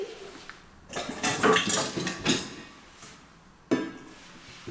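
Kitchen pots struck as makeshift musical instruments ring out in a cluster of metallic clanks and clinks, then fall quiet before one more sharp hit near the end.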